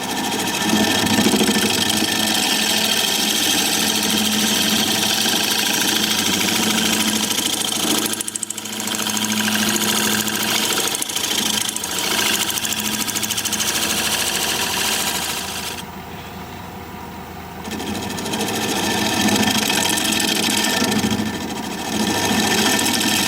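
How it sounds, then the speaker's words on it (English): A wood lathe spins steadily while a scraper works inside a turned piece of decaying wood. The tone is a continuous motorized drone with brief dips, and no one speaks. "I'm going to scrape inside here"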